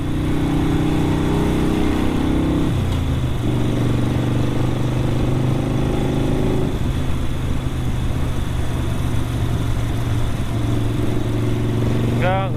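A Harley-Davidson Sportster 72 XL1200 cruises along above 80 with a steady, close engine drone and road rumble, shifting pitch briefly as the rider changes speed.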